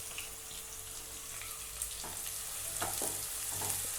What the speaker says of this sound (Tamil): இஞ்சி பச்சை மிளகாய் நல்லா ஃப்ரை ஆகட்டும்